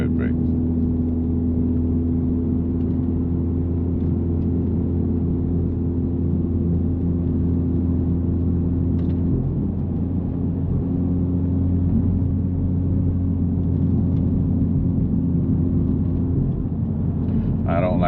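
A Honda Civic Type R FL5 drones along mountain roads, its engine a steady low hum with cabin rumble, and someone talks over it at intervals.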